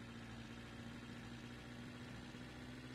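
A car engine in The Long Drive runs rough at a steady idle, a continuous low droning hum with a strong tonal buzz, fairly quiet and unbroken with no voices.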